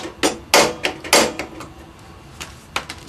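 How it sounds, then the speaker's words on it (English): Rubber mallet blows on the rear wheel axle of a Kawasaki Voyager XII motorcycle during a tire change: several sharp, loud thuds in an uneven sequence, with a couple of lighter taps between, close up and with no talking. "What I do is now rubber mallet to start the axle."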